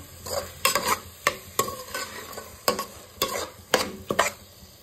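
Green peas are stirred in a hot pan while making pulao, with repeated scraping strokes of a spoon and a soft sizzle in a steady rhythm, close and clear with no talk.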